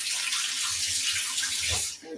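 Tap water runs steadily into a kitchen sink as dropped garlic slices are rinsed, a continuous broadband splashing hiss that cuts off near the end.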